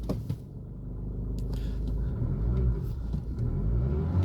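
A Renault Kaptur engine rumbles steadily in fifth gear and rises as it revs, a low throaty drone building in pitch and loudness toward the end.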